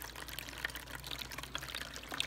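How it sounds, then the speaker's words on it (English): Home-brewed wort for an African amber ale is poured through a paint strainer bucket into a fermenter, a quiet steady trickle and splash with scattered faint drips. "It's one of these just paint strainer bucket that I sanitize and I just use to run the wort through"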